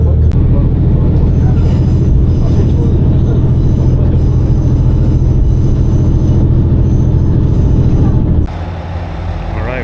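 A train rumbles steadily along the rails near Aso station in Japan, loud and close, with continuous low mechanical roar and clatter that drops off abruptly near the end.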